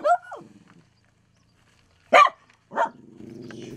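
Dog barking outdoors at a rural kennel in Altai, a few sharp barks separated by pauses, close and fairly loud, with brief low rumbling between them.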